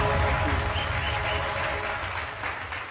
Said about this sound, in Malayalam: ഒരു നല്ലൊരു കയ്യടി ആദ്യം തരും എല്ലാവരും.